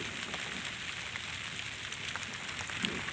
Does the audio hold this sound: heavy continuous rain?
yes